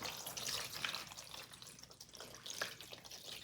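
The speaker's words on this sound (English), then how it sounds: "So I'm gonna grab a glass and pour some water" Water poured from a glass into a plant tray for indoor microgreens, a steady splashing trickle that swells near the start and again toward the end, close and fairly quiet.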